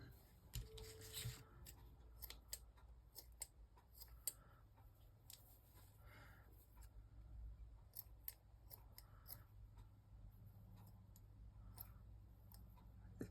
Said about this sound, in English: My scissors do not want to cut even cheesecloth.